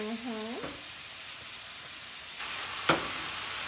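Roughly four tablespoons of butter give a faint, steady sizzle in a hot pan while ratatouille with blackened fish is cooked, with a short sharp clink near the end and a brief tonal sound at the start.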